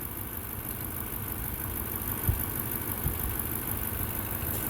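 A 2010 Lexus GX460 engine idles with its hood open, a low, steady, quiet rumble with a couple of faint knocks and no talk.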